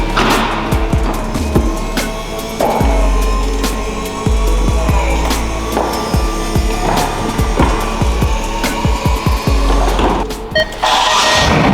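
A Ferrari California convertible's folding roof opens with a close, steady mechanical whir punctuated by repeated clunks and clicks over about twelve seconds, with no talking.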